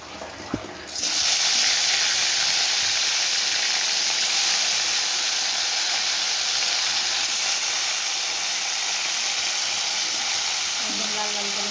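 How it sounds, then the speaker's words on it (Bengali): Fish pieces hit hot oil in a wok with a sudden loud, continuous sizzling hiss that holds steady and close for the rest of the moment. "এবার আমি মাছগুলোকে ভেজে নিচ্ছি।"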